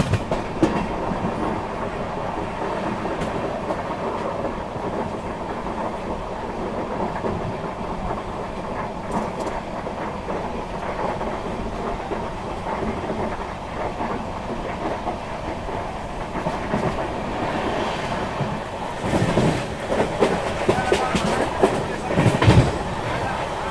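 Malwa Express passenger train running on rails, a steady continuous rumble of wheels and carriages throughout, close and loud, swelling louder near the end as a train passes in the opposite direction.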